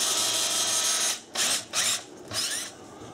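A power drill spinning a toilet brush whirs loudly for about a second, then spins in three shorter bursts with brief pauses between.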